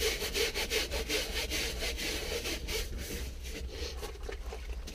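A brush works over the leather seat of a Volkswagen Touran in quick, repeated rhythmic strokes, a steady close scrubbing rasp with no voices.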